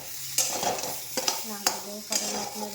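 Green chilies drop into eggplant frying in a pan, setting off a steady sizzle broken by sharp scrapes and clinks of a stirring spoon, while someone talks over the cooking.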